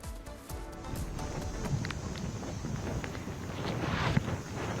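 Strong wind during Cyclone Dana in West Bengal blows as a steady low rumbling roar with gusty buffeting against the microphone, continuous throughout.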